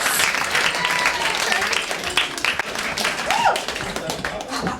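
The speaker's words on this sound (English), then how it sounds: "A round of applause for that." Audience applause at a cabaret show with a compere, steady clapping and cheering from a crowd through the whole stretch, with voices mixed in.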